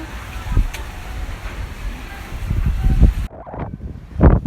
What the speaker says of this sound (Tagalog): ang lakas po ng hangin